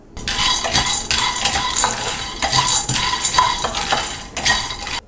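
Peanuts dry-roasting in a pan while being stirred make a loud, close, continuous rattling and scraping, with bursts of gritty clatter as the spoon turns them and no voices.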